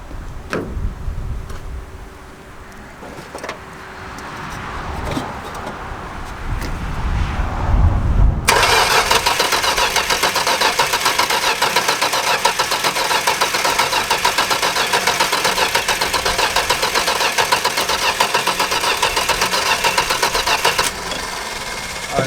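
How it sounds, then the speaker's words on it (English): A Dodge Dart Swinger engine cranks repeatedly without catching, starting with a few short starter bursts and then a long, steady, loud whirring crank that runs for over ten seconds before stopping. "That's more cranking than I want to do with no action."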